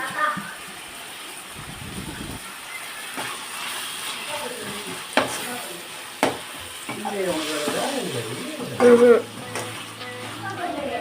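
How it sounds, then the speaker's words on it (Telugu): Onions and tomatoes fry with fresh coriander and mint for a goat curry, a moderate sizzle broken by scraping stirs and a few sharp knocks, with a voice talking over parts of it. "ఫ్రై చేసుకొని తర్వాత కొత్తిమీర, పుదీనా వేసి బాగా వేయించాలి."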